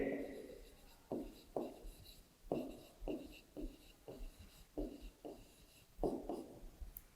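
Pen or chalk writing out a Class 3 subtraction problem in a maths lesson, with a series of short, distinct scratchy strokes in an irregular rhythm, close up under a soft voice speaking.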